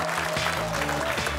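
Studio audience on a Kazakh quiz show breaks into applause, a short burst of steady clapping from many hands, fairly faint and continuous for about a second.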